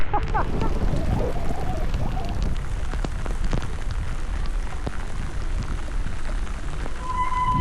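Heavy rain pours steadily on an evening in Marmaris, a dense, continuous hiss with scattered louder drops close by, no voices over it.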